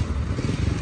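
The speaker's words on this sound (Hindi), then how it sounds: "इसकी बाइक को हो गया, बाइक भी नहीं स्टार्ट हो रही" A motorcycle engine sputters and rumbles briefly at a night pool outing, a short low, uneven burst of pulsing noise as it fails to start, with no voices.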